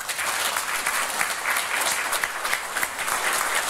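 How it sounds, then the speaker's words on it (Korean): A room of attendees at a South Korean presidential candidate's press conference on a Korean Peninsula denuclearization and peace plan gives sustained, loud, even applause, a dense wash of clapping with no break. "자, 다시 큰 박수 부탁드리겠습니다."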